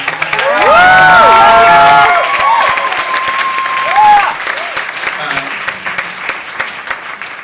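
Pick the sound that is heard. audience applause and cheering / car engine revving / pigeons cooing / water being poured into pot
audience applause and cheering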